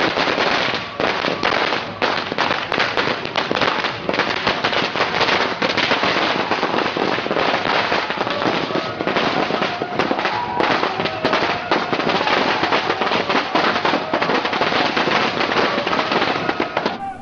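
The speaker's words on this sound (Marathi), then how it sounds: "वीर अभिमन्यू मंडळ भूतेश्वर चौक येथे फटाके फोडून या पालखीचे स्वागत करण्यात आले." Firecrackers burst to welcome a palanquin procession at Bhuteshwar Chowk in Amravati. A loud, dense, unbroken barrage of crackling pops runs through the whole clip, close by and without pause.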